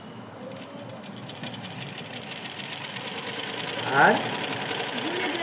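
A sewing machine stitches cloth in a fast, even mechanical rattle that gradually speeds up, heard up close while a person talks over it.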